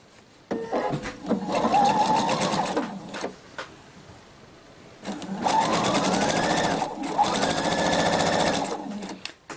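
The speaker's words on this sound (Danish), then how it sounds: "Og så kører vi en stikning hele vejen henover." A sewing machine stitching a seam across a kimono runs in two long, steady whirring passes, with a brief stop between them.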